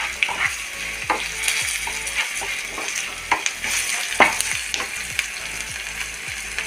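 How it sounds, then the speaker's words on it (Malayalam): Okra with fenugreek powder and spices sizzles and fries in a pan, with crackling bursts and occasional stirring scrapes, close and moderately loud, no talking. "എല്ലാം കൂടി ഒന്ന് മൊരിയട്ടെ."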